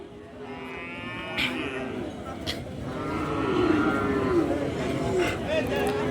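Sahiwal and Gir cattle at a border-area cattle market, with several drawn-out moos, some near and some farther off, rising over steady crowd noise and talk.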